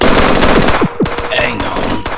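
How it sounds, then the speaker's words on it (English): Suppressing gunfire rattles in the Henry Stickmin game, loud rapid automatic shots layered with whooshing effects and a brief voice. "We'll provide suppressing fire."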